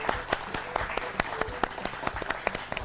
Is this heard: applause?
yes